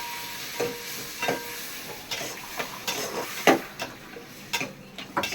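Turmeric and tomatoes sautéing with dal for idli sambar, a soft steady sizzle punctuated by irregular scraping ticks of a ladle stirring in the pan, no voices.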